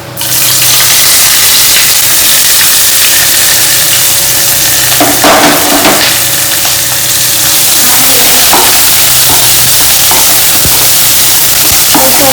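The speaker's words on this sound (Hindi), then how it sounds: "तो ये थोड़ा सा जैसे ही गरम हो गया, इसमें हम डालेंगे बारीक कटा हुआ ऑनियन" Finely chopped onion hitting hot oil with cloves and peppercorns, a loud, continuous close sizzle with brief spikes of stirring, and no talk over it.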